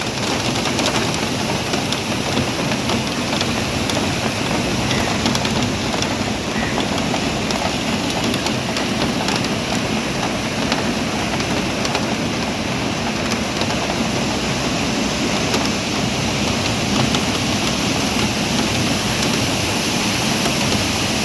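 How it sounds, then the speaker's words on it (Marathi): Heavy first monsoon downpour at Pali Hill in Bandra, Mumbai, a dense, constant roar of rain at even loudness throughout with no pauses or voices. "त्या पावसाने जोर धरलेला आहे, जोराचा पाऊस पडत आहे"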